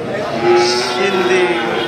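A four-to-five-month-old Sindhi calf at a cattle market moos in one long, drawn-out call, steady and fairly loud, with a faint rise in the middle and no talking.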